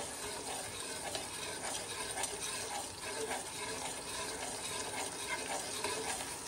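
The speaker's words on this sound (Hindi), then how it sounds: "अब इसमें हम ये डाल देंगे पानी।" Water poured into a cooking pot holding parboiled sela rice and spices for Afghan chicken tikka rice, a steady, continuous rushing pour close by with no talking.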